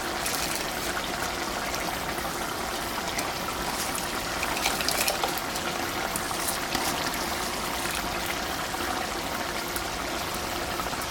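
Rice is tipped into a pot of meat pulao cooking in a home kitchen, giving a steady, dense sizzling hiss that holds at an even level for the whole stretch with no one talking.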